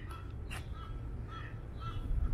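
Birds in a large garden in Cape Town give a few short, faint caws and calls against a low steady hum of outdoor background noise.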